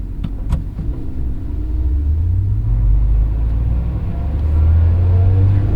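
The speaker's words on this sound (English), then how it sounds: "First time trying to double clutch, we're actually over revving it, so pretty sensitive throttle" A 2023 Lotus Emira sports car engine rumbles low and steady, its pitch rising and falling as the throttle is blipped during a double-clutch attempt and over-revved, with a deep drone building toward the end.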